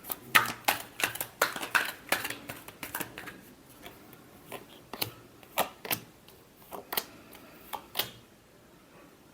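A deck of tarot cards is shuffled by hand in a quick series of crisp riffles and flicks, close and fairly quiet, with short pauses between bursts.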